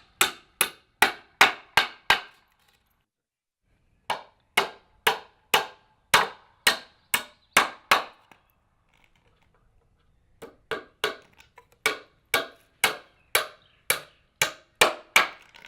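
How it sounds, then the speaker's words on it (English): A hammer drives nails through a bottom plate into wooden wall studs, two nails per stud, in loud, close, sharp strikes that come in quick runs of five to eight blows separated by short pauses. "After you nail your studs to your bottom plate"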